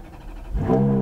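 A Ferrari F430 engine on a track restarts after a stall, starting with a low crank thump and then rising into a steady revving hum.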